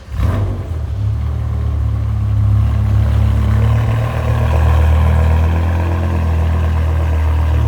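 A BMW E60 M5 engine with no catalytic converters rumbles steadily and revs up and down in the foreground, a deep, loud, continuous growl with no talking.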